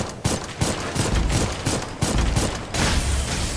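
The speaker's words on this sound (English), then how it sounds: "these torpedoes do a lot of damage" Torpedoes striking in the Dolls Nest game, set in water treatment levels: a run of heavy, crackling impact bursts landing in quick succession, loud and close, with short pauses between volleys.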